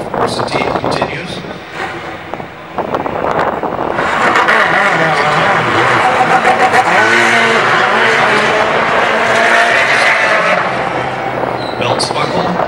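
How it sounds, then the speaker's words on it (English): A Ferrari GT race car leaving its pit stop at Daytona, with mechanical clatter and crew noise giving way to a loud, sustained engine roar pulling away close by, with possible tire noise. "Releasing the car back into the pit lane, back into the race."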